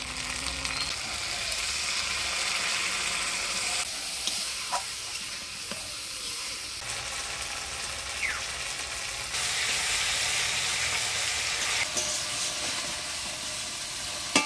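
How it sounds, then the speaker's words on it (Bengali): Ground spice pastes of ginger, coriander, cumin and chilli with turmeric and salt fry in a pan, a continuous close sizzle and hiss with occasional stirring scrapes and no talk. "মশলাটা ভালো করে কষা নিলাম।"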